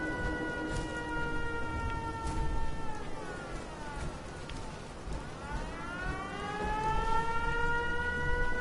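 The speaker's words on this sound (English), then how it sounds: "Oh, now you turn on the raid siren." A raid siren in a PS4 video game wails continuously, its layered tones sliding down and then rising again in a long, steady cycle over a rough background wash.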